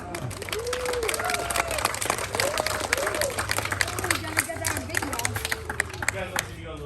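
Scattered clapping from a small group of visitors at an alligator sanctuary in Athens, Michigan, mixed with crowd chatter and children's voices over steady outdoor background noise.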